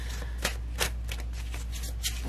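Tarot cards being gathered and handled during a reading, with soft papery swishes and riffles coming in several close bursts over a low steady hum.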